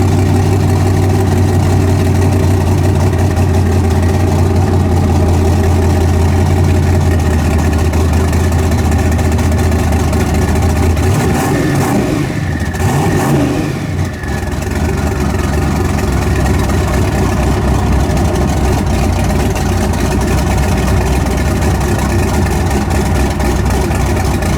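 Turbocharged Suburban engine idling with a loud, deep, steady rumble, then a brief rev around the middle that swells and settles back into a steady, close idle.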